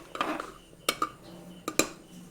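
Potato curry is transferred into another pot, with a spoon scraping and knocking against metal cookware in a few sharp clinks amid softer shuffling, close and fairly quiet.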